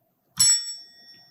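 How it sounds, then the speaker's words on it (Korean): A single bright bell strike rings out once to mark the start of a youth science-talk contest, a sharp ding that decays over about a second in a quiet hall. "본 경연은 시작을 알리는 종소리 한번 들어보시겠습니다"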